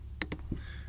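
A few quick keystrokes on a computer keyboard while search terms go into a library search box, a short cluster of crisp clicks followed by quiet, close and fairly soft.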